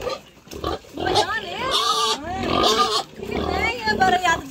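Pigs on a farm squeal and grunt loudly and repeatedly, close by, while someone talks over them.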